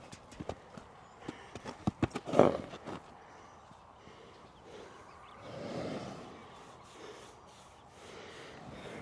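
A horse shifts its hooves during farrier-style foot handling, giving a burst of close, uneven clip-clops and a snort-like breath, followed by quieter shuffling and a low breathy rumble.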